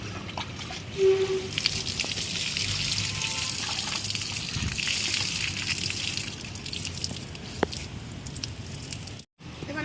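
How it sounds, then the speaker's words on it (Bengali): Water trickling and splashing steadily as fresh white helencha bitter greens are washed by hand, a continuous close running-water wash with small drips and pours, ending in a brief drop-out. "আসলে আমি শাকটা ধুয়ে নিই"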